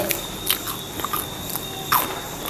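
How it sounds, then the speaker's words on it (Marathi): Crisp, homemade chakli made from a mixed-flour dough without roasted flour gets bitten into, giving several sharp crunches at irregular intervals, close-up and fairly loud, with the loudest snap near the end and no talking. "खाऊन बघूया घ्या हो चालते की घ्या हो बघा लगेच मोडतोय कुरकुरीत झाले"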